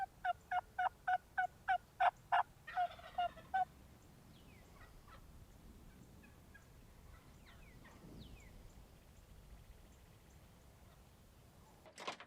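A wild turkey gobbles on a ranch during a hunt, with a quick run of sharp, loud calls over the first few seconds, then quiet open-field ambience.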